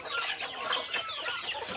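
Native Thai chickens, including fighting-cock and village breeds, cluck and chatter in overlapping short calls nearby, a busy continuous flock sound.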